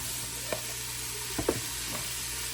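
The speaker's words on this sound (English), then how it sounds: "we just gonna brown this down and soften it up" Ingredients brown in a pot for catfish head soup: a soft, steady sizzle carries under a few brief scraping stirs, with no talk.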